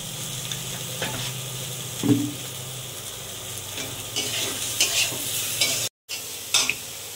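Tiger prawns with elephant foot yam stalks fry in a pan, giving a steady soft sizzle broken by spatula scrapes and clinks, with a brief silent gap near the end.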